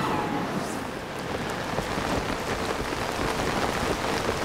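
Steady, dense rain pours down in Zelda: Tears of the Kingdom, a constant hiss of drops near the player with no break and no talk.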